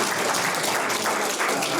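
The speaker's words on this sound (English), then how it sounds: "let's give all the speakers a round of applause" Audience at a real estate investor night seminar giving the speakers a steady round of applause, a loud, continuous wash of many clapping hands.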